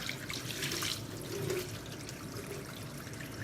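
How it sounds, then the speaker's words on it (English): Running tap water splashes over a Venev bonded sharpening stone during rinsing, a soft continuous trickling wash heard close but quietly, with no voices. "Rinse it off."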